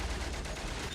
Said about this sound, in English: That's right above my head, that gunfire.